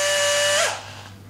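A power drill whines steadily as it bores a 2.5mm hole into a strip for a DSLR overhead camera rig, loud and close, then winds down and fades after the bit finishes.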